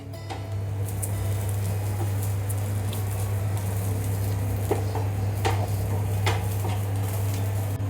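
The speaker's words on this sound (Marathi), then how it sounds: "अद्रक लसूण टाकून भाजून घेऊ" Ginger and garlic sauté in oil in a pan, with a steady sizzle and scattered metallic scrapes and taps of a spoon stirring against the pan over a constant hum.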